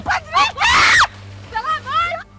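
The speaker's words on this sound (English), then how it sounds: "the aunt filming the video can be heard panicking and screaming in fear" A woman panics and screams in fear during a storm-drain near-death incident, her high, strained shrieks coming in loud bursts close by, with a prolonged scream in the middle and shorter cries after.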